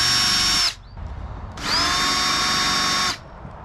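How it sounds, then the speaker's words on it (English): A power drill fitted with a countersink bit bores into wood for a planter build, two loud high whining bursts with a brief pause between them. "And I'm going to use my countersink bit."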